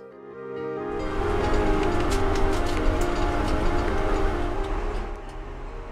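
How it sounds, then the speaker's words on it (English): An Amtrak passenger train travels from San Francisco toward Merced, heard as a steady, loud rolling rumble with rhythmic clicking from the rails. The sound fades in over the first second and holds constant, with no voices. "The Amtrak train from San Francisco is a comfortable way to travel."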